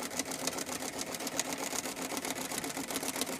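A Singer 306 sewing machine runs at a steady pace, its needle mechanism producing a fast, even mechanical chatter and whir that fills the whole stretch at close range with no talking.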